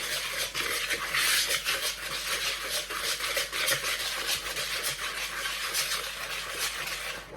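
Cheesecake batter ingredients are whisked together in a bowl, beaten until pale, making a steady close scraping and stirring rasp that runs without a break and with no voices.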